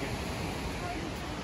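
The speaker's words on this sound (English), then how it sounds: "Look at there's a big waterfall." A big waterfall along a park trail, heard as a steady, broadband rush of gushing water that stays constant and fairly faint throughout.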